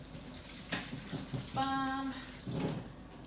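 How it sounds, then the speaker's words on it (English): Water runs from a kitchen tap as hands are washed before cooking dinner, a splashing flow with a brief squeaky whine partway through and a short spoken word over it. "I'm just going to wash my hands."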